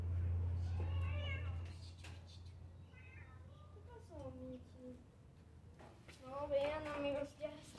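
Several cats meow repeatedly around a person outdoors, with short plaintive calls in bursts, some near and some softer, and a low steady hum underneath during the first part.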